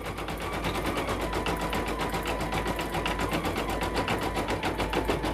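An embroidery machine stitching zigzags around an applique patch on a fabric iron-on patch runs in a fast, even, continuous mechanical rattle, close and steady throughout with no voices.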